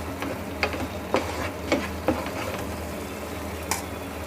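Onion and tomato gravy being stirred and pressed in a pan, soft scattered clicks and scrapes of the spoon at an uneven rhythm over a gentle, steady sizzle close by.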